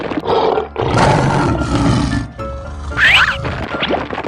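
A cartoon lion in a 3D animal animation lets out a loud, close roar, rising in a couple of surges over a few seconds, with a bright squeaky sound effect briefly layered in near the end; no talking.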